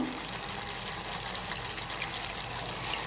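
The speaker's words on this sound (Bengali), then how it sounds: "তিলের বাটিটার মধ্যে জল দিয়ে জলটা দিয়ে দিচ্ছি" Water pours into a bowl of white sesame paste, a steady, soft trickling splash that runs unbroken for a few seconds.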